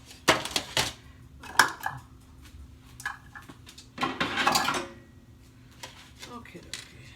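Metal baking pans clatter and clank in a home kitchen during preparation of seafood cornbread dressing, a few sharp knocks and scrapes spread irregularly over several seconds, with a faint steady hum underneath.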